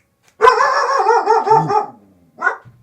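A puppy gives a loud, close, drawn-out wavering bark-whine, then a second shorter yelp after a brief pause.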